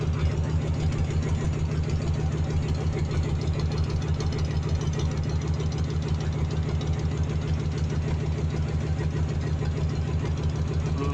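A boat engine chugs steadily in a fast, even rhythm on a raft ferry carrying motorbikes across a river, loud and continuous throughout with no talking.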